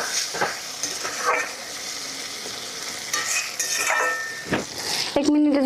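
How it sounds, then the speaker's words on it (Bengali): Spice paste with chopped tomato sizzles in a pan while a metal spoon stirs and scrapes steadily, giving a close frying hiss broken by clinks against the pan, ending in a sharp clatter. "তাহলে মশলাটা আর একটু ভালো করে কষায় নিব।"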